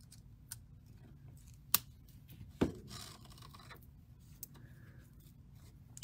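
A small cutter or scissors snips open a strand of beads, giving a couple of crisp, faint clicks amid quiet handling noise at a jewelry-making bench.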